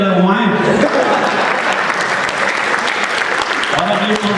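Audience applause at a live comedy show, a dense sustained burst of many hands clapping close and loud, with a voice briefly heard at the start and end.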